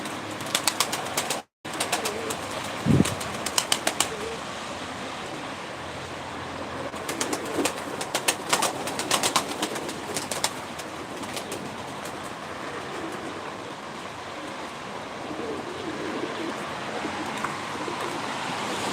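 Game pigeons in Ankara coo softly amid sharp bursts of wing flapping and clapping, scattered over a steady outdoor background.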